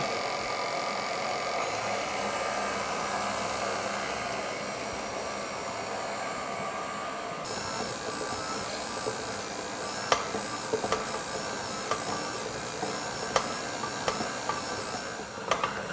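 An electric stand mixer with a dough hook runs at medium speed, kneading bread dough for roti telur. It gives a steady, moderately loud whirring drone, with a few faint knocks toward the end and no speech.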